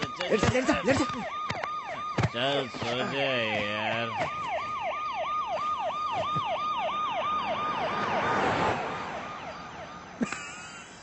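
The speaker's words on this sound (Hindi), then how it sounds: "अबे बैकग्राउंड म्यूजिक नहीं है, पुलिस की सायरन" A police siren wails in repeated rising and falling sweeps through the middle of the scene, moderately loud and steady, before fading near the end. Brief speech opens the scene from a Hindi film.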